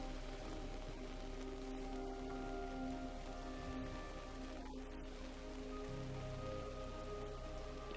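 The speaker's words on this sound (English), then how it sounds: "like rain was getting blown in" Heavy wind-blown rain patters and drums steadily against a tent, a dense, constant wash of drops with gusty undertones throughout.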